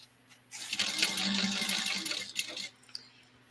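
Sewing machine top stitching the last side of a fabric daycation bag, a steady whirring run of about two seconds that starts and stops abruptly, close and fairly quiet with no talking.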